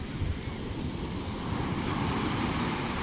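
Storm surf on the Mediterranean shoreline at Belek after bad weather, a continuous roar of breaking waves blended with heavy wind buffeting the microphone, steady and loud throughout.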